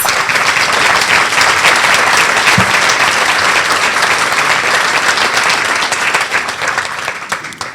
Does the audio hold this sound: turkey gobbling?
no